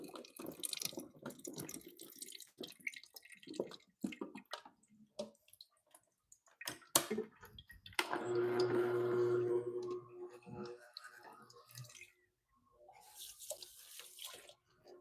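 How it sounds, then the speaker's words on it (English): Juice ingredients poured into a container for a summer glow-up juice, a steady close pouring wash of liquid lasting about two seconds mid-clip, set among scattered kitchen clatter and handling noises. "let's go ahead and pour our ingredients in"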